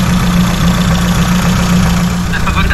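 A motorcycle engine running, a loud close steady drone with a rough throbbing low end, continuous for a few seconds with no talk over it.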